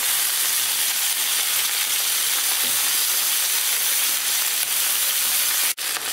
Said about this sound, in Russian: Голень с одной стороны поджарилась, переворачиваем на другую сторону и также обжариваем и с этой стороны.